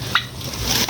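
A quick turkey gobble rings out over a low, busy outdoor background; the call is brief and close.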